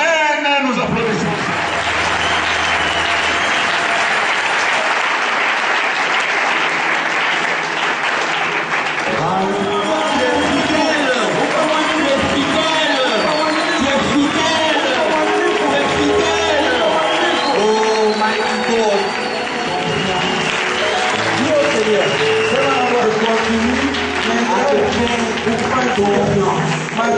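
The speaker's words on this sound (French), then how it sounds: "Nous applaudissons." Church congregation applauding loudly and continuously after a prayer, the dense clapping steady and close throughout with voices mixed in beneath it.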